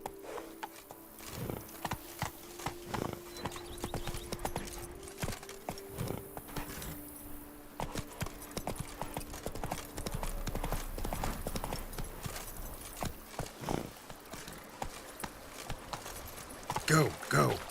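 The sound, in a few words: horse Roach trotting, from video game The Witcher 3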